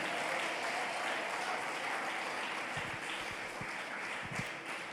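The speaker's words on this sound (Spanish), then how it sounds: "Alguien le aplaude fuerte al Rey de Reyes" A church congregation applauds loudly during a sermon, a dense wash of clapping that carries on steadily for several seconds with a few low thumps near the end.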